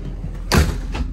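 Motorhome door swinging shut with a single firm thud, followed by the entry step retracting, close by and fairly loud with a faint whoosh trailing off.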